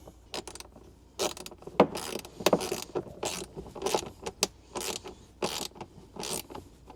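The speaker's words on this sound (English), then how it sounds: "grab your 4mm hex key and your 10mm wrench or socket and get everything tightened down" Bolts on a Trail Icon pocket guard being tightened with a 4mm hex key and 10mm wrench: quiet close metallic clicks and ratcheting rattles in short irregular bursts, without speech.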